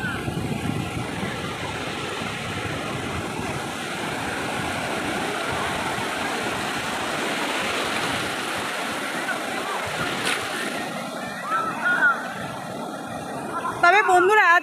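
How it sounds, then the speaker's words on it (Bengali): Sea waves wash in steadily at Bakkhali beach on a sunny, breezy day, a broad continuous rushing surf, with children's voices and shouts rising near the end. "দীঘা বা পুরীর যে ঢেউ, সেই ঢেউয়ের তুলনায় কিন্তু বকখালির ঢেউ একটু কম"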